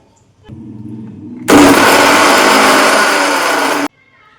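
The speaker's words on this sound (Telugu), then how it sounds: "నేను ఒక మిక్సీ జార్ తీసుకొని అందులో ముందుగా అల్లం ముక్కలు తర్వాత పచ్చిమిరపకాయలు తీసుకొని ఒకసారి గ్రైండ్ చేస్తాను" An electric mixer grinder whirs loudly for about two seconds, crushing ginger pieces and green chillies in its jar, starting and stopping abruptly after a faint lead-in.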